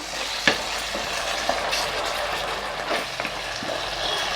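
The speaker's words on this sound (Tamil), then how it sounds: "சில்லி சாஸ், டொமேட்டோ சாஸ், எல்லாத்தையும் சேர்த்து வதக்கிப்போம்" Chilli sauce and tomato sauce sautéing in a pan for spicy chilli idly, a steady close sizzle with a few sharp scraping stirs, no talking.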